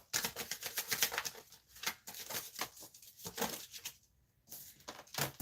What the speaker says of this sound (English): I'm shuffling this deck like everybody getting money.